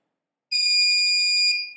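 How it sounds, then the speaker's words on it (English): A buzzer driven by a PCA9536 digital I/O expander on a Particle Photon board sounds one loud, steady, piercing electronic tone lasting about a second after silence, then fades. "for 3 state buzzer is on"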